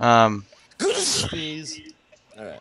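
A single sharp sneeze cuts in between bits of casual talk from players, with a short gasp-like breath around it and voices before and after.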